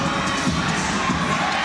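A large arena crowd at a women's college basketball game between Clemson and NC State roars steadily at tip-off, a dense continuous wall of cheering and shouting heard from within the stands.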